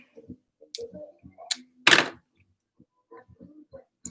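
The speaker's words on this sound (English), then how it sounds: "we'll take our last screw out here and we'll see what's in the diff." Last screw coming out of a WLToys RC car differential during a teardown: faint scattered clicks and ticks of a small screwdriver and metal parts, with a brief louder rattle near the middle, close and quiet.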